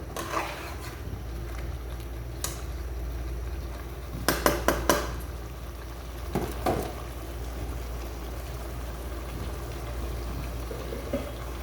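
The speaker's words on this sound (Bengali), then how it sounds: "ভালো করে নাড়াটা দেবো, মশলাটা ভালো করে মিক্স হলে তো দেখতে ভালো দেখা যাবে।" Spice mixture stirred in a metal cooking pot, with a few sharp clinks of a spoon against the pot and a quick cluster of scraping knocks, under a faint steady background hiss.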